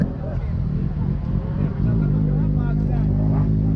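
Motorcycle engines at a bike meet in Florestal, Minas Gerais, rumble and rev steadily nearby, a low throaty drone that thickens midway, with a voice speaking over the noise.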